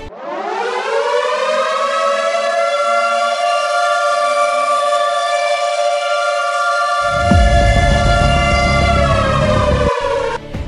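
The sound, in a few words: war air-raid siren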